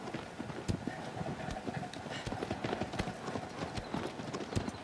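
Horse hooves clip-clopping in the video game Shadow of the Colossus, a quick irregular run of sharp hoof strikes, fairly faint, with some talk underneath.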